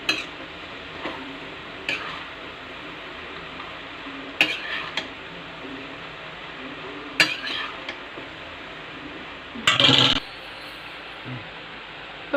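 Pasta being stirred in a pan with a spoon, soft scraping and sizzling with a few sharper clinks of utensil on metal at irregular intervals, close and fairly quiet.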